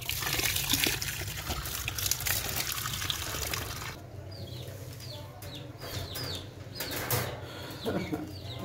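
Water pours and splashes steadily into a rabbits' water bowl, with occasional chirping birds and faint rustling in the background.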